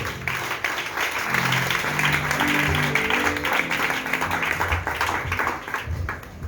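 A church congregation applauding loudly to acclaim the Lord, with sustained crowd clapping throughout and a few low voices mixed in.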